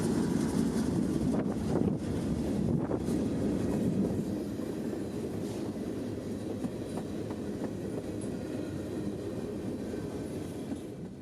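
A train rumbles steadily past at close range, with low rolling noise and faint clacking of wheels, continuous for the whole stretch.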